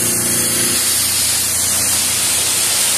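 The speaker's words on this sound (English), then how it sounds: "Then we'll spray it one more time" A steady, forceful hiss of water spraying onto a K&N air filter runs the whole time, loud and close, with a low rumble underneath for the first moment.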